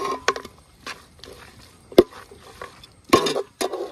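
Kerala-style rabbit roast being stirred through its masala in a pan, giving soft scraping and clacking strokes with a sharper knock partway through and a flurry of scrapes near the end, with no talk.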